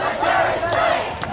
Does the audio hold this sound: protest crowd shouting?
yes